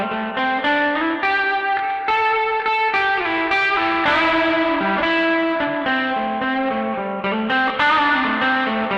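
Electric guitar played through a TC Electronic Arena reverb pedal on its spring setting, a run of distinct plucked notes and chords, each ringing into a springy reverb tail, close and clear with no talking.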